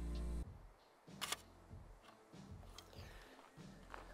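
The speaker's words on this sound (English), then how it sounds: "Yeah, it's like a really, really slow shutter speed." A Polaroid Land camera loaded with expired pack film fires a very slow shutter release: a short mechanical whir, then a string of soft clicks and clacks, near and fairly quiet.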